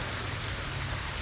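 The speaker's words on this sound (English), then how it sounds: "Here comes a little bit more rain." Steady rain falls in the woods as a soft, even hiss of drops on surfaces, faint and continuous with no talking.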